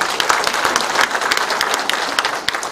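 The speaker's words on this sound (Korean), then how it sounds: "취재의 기자님께도 힘찬 박수 보내주십니다" Dense audience applause at a Korean city mayor's neighborhood town-hall meeting, a steady crowd of many hands clapping loudly and continuously throughout, with no talk over it.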